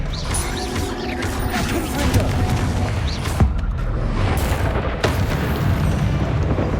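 Expelliarmus spell blast in Hogwarts Legacy, a loud, booming magical burst with crashing, rumbling debris and sharp impacts that clears a room, sustained over several seconds with no speech.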